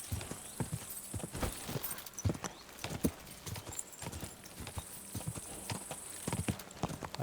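Horse hooves gallop in steady clip-clop rhythm during a race in Kingdom Come: Deliverance 2, loud and close, with occasional whinnies over background game ambience.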